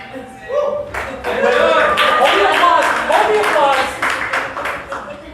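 Brief clapping from a small group, dense and fairly close, lasting several seconds while people keep talking over it.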